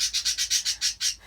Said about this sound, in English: yeah, shut up birds